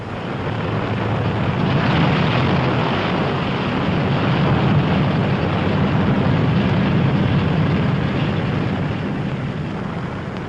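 Engines of WWII B-17 bombers taxiing at an airfield make a dense, steady, loud roar that swells slightly and then holds with no pauses.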